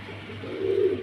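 Matras pigeons give a soft, low cooing that swells toward the end of a short stretch, steady and close, with no talk over it.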